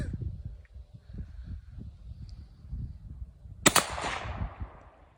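A single sharp gunshot cracks out after several seconds of low rumbling background, followed by a short noisy tail.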